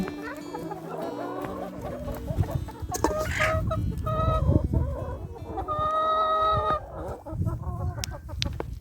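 Chickens cluck and squawk in a snowy yard on a very cold afternoon, several birds close by with busy overlapping calls and brief louder cackles.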